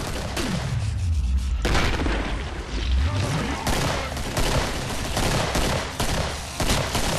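Pistol fire from a 9mm handgun in Killing Floor rings out as repeated sharp shots amid heavy booming combat, with low rumbling impacts and a voice talking over the fight.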